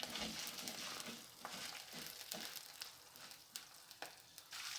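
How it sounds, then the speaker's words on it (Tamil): Garlic sizzling in hot oil in a pan for a ridge gourd skin chutney, a steady crackling fry with occasional sharper pops and stirring scrapes, close and fairly quiet, no talk. "பூண்டு எண்ணெயிலே நல்லா வதங்கிடணும்."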